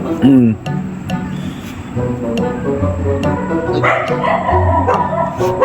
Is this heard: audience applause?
no